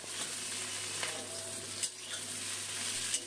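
Eggplant and flat beans frying in a pan, a steady close sizzle broken by a few sharp clinks of stirring.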